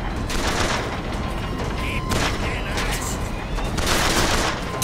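Rapid gunfire bursts from the video game Bioshock Infinite, dense volleys of shots packed closely together across the whole stretch with brief gaps, loud and continuous.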